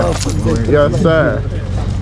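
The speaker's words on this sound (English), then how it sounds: "where them keys at, man?" A bunch of keys jangling and clinking nearby, a short loud metallic rattle mixed with someone talking over it.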